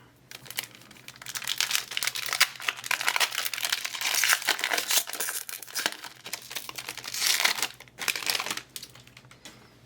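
Crinkly plastic wrappers of Magic: The Gathering Commander Legends draft booster packs are torn and crumpled up close, a busy stream of crackling and rustling with short pauses between bursts.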